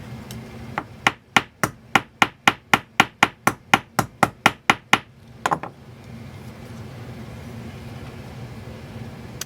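About fifteen sharp, evenly spaced metallic hammer strikes on a wire rivet in a steady rhythm, close and loud, then a quick double tap before quiet room noise.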